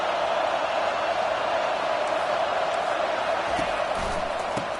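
A stadium crowd in a college football video game roars steadily and loudly, a dense unbroken wall of cheering that fills the whole stretch without pause.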